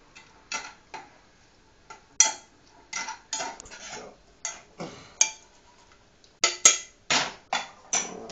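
Metal spoon clanking and scraping against a metal pot of collard greens and black-eyed peas, a series of sharp, close knocks in an uneven rhythm with no talking.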